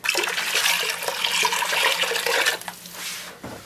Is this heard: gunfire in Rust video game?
no